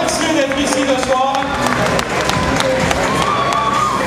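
A crowd claps and cheers in a dense, sustained burst of applause at a Christmas trail running event in Bassecourt, Switzerland, with voices calling out over the clapping.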